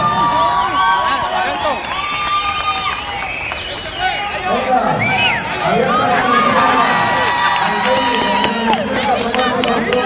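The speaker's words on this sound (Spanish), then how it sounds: "listos que el público les aplauda" Crowd at a jaripeo rodeo in the USA cheering and clapping, a dense, continuous roar of many voices with whistles and shouts, under an announcer's amplified voice.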